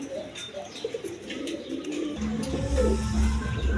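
Pigeons at a breeding pair pen coo softly in short repeated calls, with other birds chirping faintly and a low rumbling background rising in the second half.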